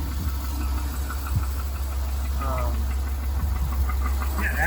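A Cadillac Escalade's 6.2-liter LS V8 idles steadily with a constant low rumble, close and fairly loud, and a slight extra noise runs through the running engine.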